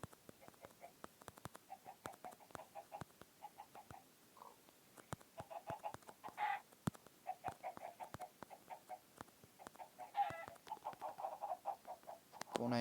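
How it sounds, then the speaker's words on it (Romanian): Short, repeated clucking calls in bursts from several Minecraft hens, with sharp clicks scattered throughout, moderately loud and close, over a quiet background. "Pun aici așa mai multe găinuțe."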